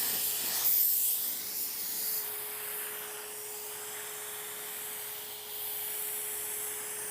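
A spray gun lays a light sealer coat onto a replacement car bumper, giving a soft, continuous hiss of atomized spray that holds steady at moderate volume throughout, with a thin constant tone running underneath.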